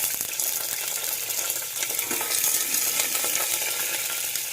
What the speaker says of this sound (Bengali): চিচিট চিচিট চিচিট করছে